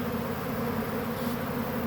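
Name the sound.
honey bee swarm buzzing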